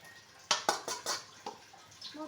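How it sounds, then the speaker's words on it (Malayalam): Powder stirred into a pot as it is added, giving scattered clinks and scrapes of a utensil against the metal with soft rustling, close and fairly quiet, with a few sharp taps in an uneven rhythm. "അത് ഇടുന്നതിൻ്റെ കൂട്ടത്തിൽ നമുക്ക് ഇളക്കാം."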